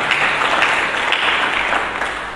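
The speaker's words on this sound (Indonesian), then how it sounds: "Berikan tepuk tangan." Worshippers at a Sunday church service keep up a dense, even round of clapping, steady throughout and tapering slightly at the end, with no voices on top.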